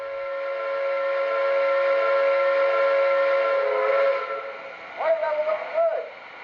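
An MTH model train's steam whistle, triggered from a DCS remote, sounds as a long sustained chordal blast lasting about four seconds, then two shorter toots, loud and close over a faint hiss.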